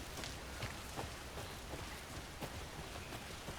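Rain falls in the Alan Wake 2 video game, a dense, steady patter on surfaces with scattered sharper drops, constant and moderately quiet, with no talking.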